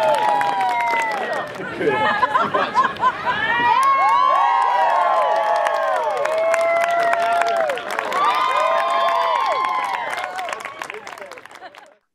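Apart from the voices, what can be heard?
audience applause and cheering for 4-ball juggling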